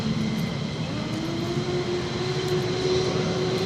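Loud, steady roar of F-15E Strike Eagle fighter jets at RAF Lakenheath, a continuous broadband engine rumble with a rising whine held throughout, no voices.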